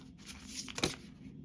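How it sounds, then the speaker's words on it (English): Tarot cards being shuffled by hand during a reading, a quiet papery riffle that builds to one brief, sharper burst before fading back to soft handling. "while I'm shuffling"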